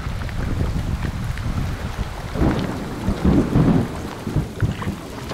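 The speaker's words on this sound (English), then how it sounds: "This thunderstorm has really rolled in" At a wilderness campsite, rain pours steadily while low thunder rolls and rumbles in the distance, swelling in two or three waves.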